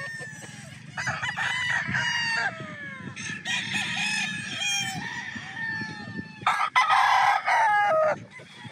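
An early bird bloodline gamecock, a Gilmore cross, crows repeatedly and loudly nearby, with long drawn-out calls overlapping other roosters crowing and clucking around it.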